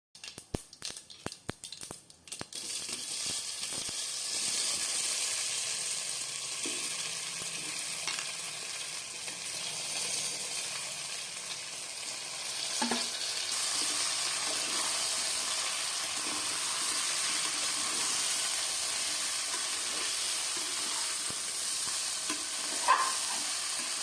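Boiled wild yam tubers tempered with salt and spices sizzle steadily in a hot pan, with occasional soft stirring scrapes; a few sharp knocks come first, then the frying continues alone.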